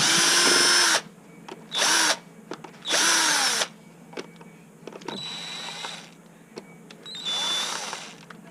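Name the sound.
screws being removed from battery connection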